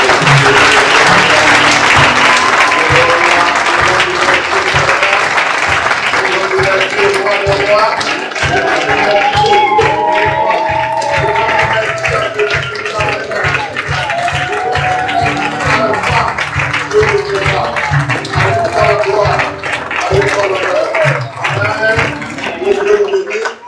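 A church congregation at a Sunday service applauds loudly, with dense sustained clapping from the whole room that continues throughout, with a voice speaking over the clapping partway through.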